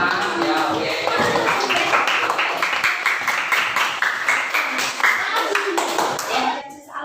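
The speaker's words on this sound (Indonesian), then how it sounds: "silakan balik beri aplaus buat kelompoknya kelompok 5" Group 5 gets a round of audience applause in an Indonesian classroom. Dense, steady clapping from many hands fills the space, with talk mixed in underneath.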